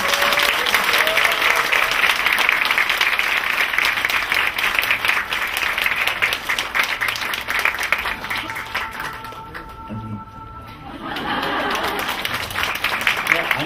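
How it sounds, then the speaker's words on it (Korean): A crowd gives sustained, loud applause to welcome a lecturer to a talk at Jeonggwanheon, with steady dense clapping that dips briefly near the end before swelling again, and no talk over it. "여러분 선생님을 큰 박수로 환영해 주시기 바랍니다."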